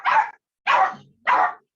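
A dog indoors gives three sharp, evenly spaced barks, fairly close and clear, with no talk over them.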